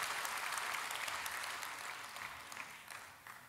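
A church congregation applauds, a dense, fairly distant wash of clapping that slowly fades toward the end.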